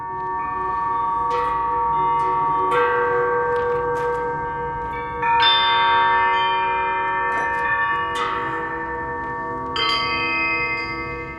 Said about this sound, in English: He made his own chimes out of shackles.